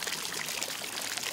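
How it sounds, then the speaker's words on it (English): Naturally hot spring water pours out of a fountain in Hot Springs, Arkansas, a steady close splashing stream heard alone at moderate level. "the water coming out of this thing is hot"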